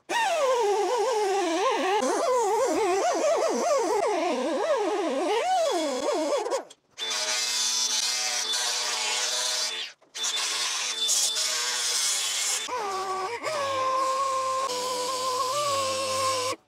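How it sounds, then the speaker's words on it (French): A rotary burr grinds the corner of an aluminium dashboard, a loud, warbling high-pitched whine that rises and falls, then cuts out and restarts in steadier, harsher bursts with brief pauses between. "Là je vais mettre un coup de fraise comme ça dans l'angle pour essayer d'arrondir"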